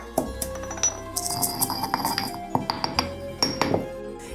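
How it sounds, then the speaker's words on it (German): A small chili being crushed in a mortar for spaghetti alla puttanesca, heard as a series of close, bright clinks and knocks of pestle against hard bowl in an irregular rhythm with no talking. "Und meine Chili, die kleine, die mörsere ich mir dann noch so ein bisschen."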